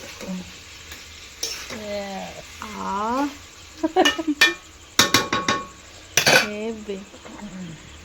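Meat sizzling as it is stir-fried in a wok with repeated metal spatula scrapes and clanks, while a voice speaks in bursts over the cooking.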